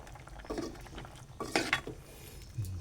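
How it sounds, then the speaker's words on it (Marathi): A lid lifted off a pot of cooking vegetable curry with potato and lentils, a couple of short clinks and metallic scrapes close by in a quiet kitchen. "आता आपण ते झाकण काढून बघू"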